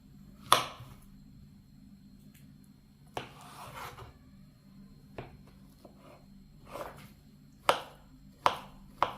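A knife slices banana for a cake filling, producing faint, sparse cuts and taps on a board, with several sharper strokes clustered near the end over a quiet background hum.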